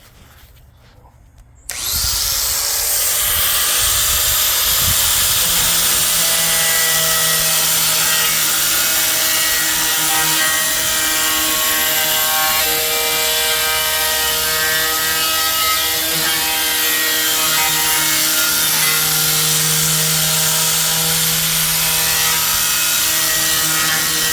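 A power saw cuts through stone tile to shape a bullnose edge, starting abruptly after a brief quiet moment and then running loud and steady, a continuous grinding whine with a shifting low hum throughout.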